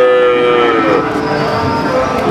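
A cow at the Pati cattle market, where young female breeding cattle are sold, gives one long loud moo close by, alone and with no talk.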